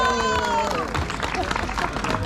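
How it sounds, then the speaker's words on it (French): A brief burst of crowd applause and cheering for the winner of a cadet cycling race in Romillé, mixed with background music and hubbub, loud and lively. "Applaudissements pour Thomas Lermite."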